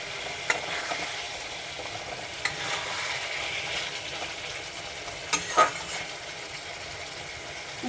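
Pieces of Katla fish fry in hot oil for a Bengali-style kalia. The close, even sizzle hisses throughout, broken by a few sharp pops and spatters.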